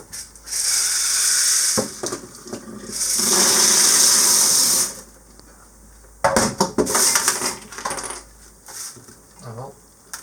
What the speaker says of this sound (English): I catch them in a sieve when I'm pouring them out.